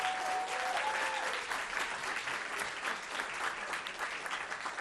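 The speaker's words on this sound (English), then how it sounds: "They deserve an applause." Sustained audience applause at a Book TV tribute to Howard Zinn, a dense steady patter of many hands filling the room for about five seconds, fairly loud and even throughout.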